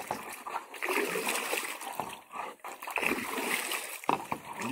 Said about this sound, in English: And you just want to get it stirred good.